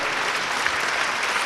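A concert audience at a classical chamber music event for children claps in a dense, steady burst of applause that holds throughout.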